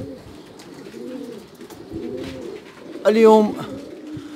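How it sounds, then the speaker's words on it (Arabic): Released racing pigeons coo in soft, rolling calls on a rainy day, with one clearer, louder coo near the end. Someone talks over most of it. "حنا طلقنا الحميمات، ها هما يطيروا ان شاء الله كيف كتلاحظوا"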